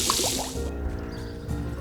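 Liquid from an air potion pours and drips into a quenching barrel in a medieval blacksmith video game, a short wet splashy trickle with a few droplet plinks, heard alone.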